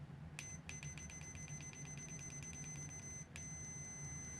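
Continuity beeps from a cheap SATA 03055 multimeter: a steady high-pitched tone sounding almost continuously, with two brief breaks as the probes lose and regain contact, fairly quiet over a low background hum.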